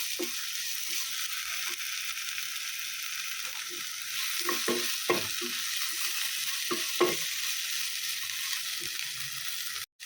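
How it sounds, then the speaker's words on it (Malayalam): Onions and tomatoes with salt being stirred in a hot pan, a steady sizzle under repeated scraping strokes of a spoon, close and alone with no voices. "അപ്പോൾ ഉപ്പും കൂടെ ചേർത്ത് നന്നായിട്ടൊന്ന് ഇളക്കി കൊടുക്കാം"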